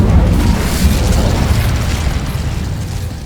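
An Incendio fire spell blast in Hogwarts Legacy, a loud, dense roaring burst of flame and rumble that holds steady for about three seconds before easing slightly.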